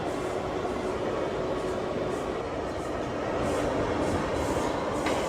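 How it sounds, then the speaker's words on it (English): An R179 New York subway C train runs steadily on its rails, a loud, continuous rumble of wheels and motors that swells slightly toward the end, with no voices. "I'm driving the C train to J Street."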